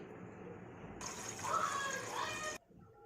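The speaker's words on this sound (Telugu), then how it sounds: "రైస్ కోసం ఒక పెద్ద గిన్నె తీసుకోవాలండి. ఇందులో వాటర్ యాడ్ చేయాలి." Water pours into a large pot for boiling rice for mutton biryani, a steady rushing stream that swells midway and stops abruptly, heard fairly close and alone.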